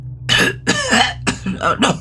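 Four harsh, loud coughs in quick succession, close by, with a hoarse, phlegmy edge and short gaps between them.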